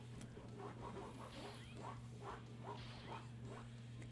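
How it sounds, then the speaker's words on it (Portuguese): A dog barking and yipping as it tussles with an armchair, several short muffled barks in a row over a steady electrical hum, heard a little way off. "E meu cachorro tá ali, ó, brigando com a poltrona"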